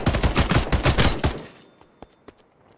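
Rapid, loud bursts of automatic gunfire from a video game rattle for over a second, then stop, leaving a few isolated distant shots and clicks.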